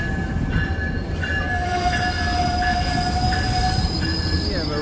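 Commuter train from Riverside pulling into Los Angeles Union Station, a steady rumbling roar with high, drawn-out wheel squeals ringing over it, heard up close on the platform.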